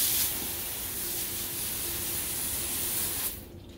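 A water hose sprays steadily up close, rinsing soap out of a dog run, a continuous loud hiss that cuts off sharply near the end.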